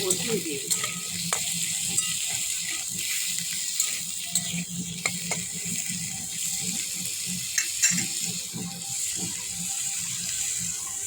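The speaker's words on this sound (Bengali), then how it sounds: "ভাজছি" Steady sizzling of potatoes frying in a pan, with occasional clinks and stirring, continuous and fairly close, no voices.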